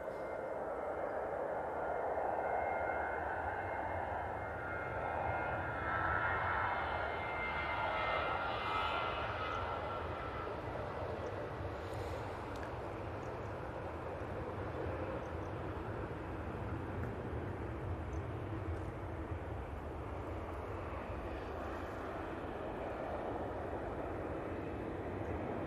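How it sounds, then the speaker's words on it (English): Boeing 737-800 departing Manchester Airport for Heraklion, a distant, steady jet engine roar that rumbles on evenly without any talk. "737-800 off to Heraklion"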